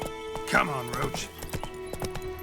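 Hooves of a horse in The Witcher 3 clop in a loose rhythm while a whinny rises and falls near the start; someone speaks over the game sounds.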